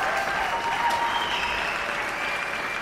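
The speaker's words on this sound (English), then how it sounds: "Vous entendez cet applaudissement?" A crowd of about 3000 in the video game Life is Strange gives a dense, steady wash of clapping that holds at an even moderate level throughout, with no talking.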